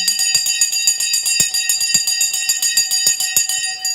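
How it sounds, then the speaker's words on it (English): A bell rings continuously with a sustained high metallic tone, steady and fairly loud, with faint irregular clicks and knocks underneath. "The bell has gone."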